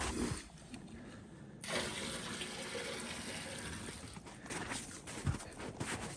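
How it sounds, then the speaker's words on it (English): Maple sap pours into a cube container beside an old tractor, a steady rushing splash of liquid that continues throughout, moderately loud and close. "So let's keep filling this thing."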